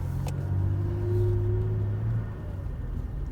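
A 2019 Toyota Tacoma TRD Sport V6 pickup pulls hard under acceleration, its low engine drone rising steadily and holding strong for a couple of seconds before easing back to a steady cabin rumble.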